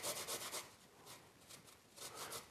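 Fresh turmeric root, skin on, being grated on the fine side of a grater; a few quick rhythmic rasping strokes, then a pause, then another short burst, close and fairly quiet.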